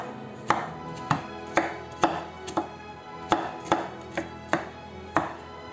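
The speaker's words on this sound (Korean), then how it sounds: "우엉은 가늘고 일정하게 채 썰어 주세요." A knife julienning burdock root into thin, even strips on a cutting board, with about ten crisp, evenly spaced chops landing close and clear, roughly one every half second.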